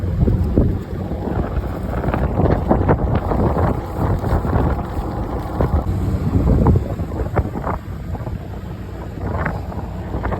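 Strong wind buffets the microphone in a steady, roaring rush with gusty bursts throughout, and no one speaks.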